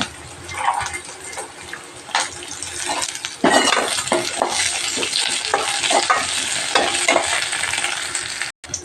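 Dried red chillies, curry leaves and garlic frying in a pan, a loud, close sizzle that jumps in level as the spices go in, with scraping stirs and light clinks of a utensil against the pan throughout.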